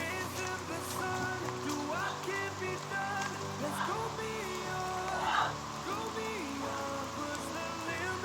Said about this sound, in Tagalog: Malakas ang ulan, guys.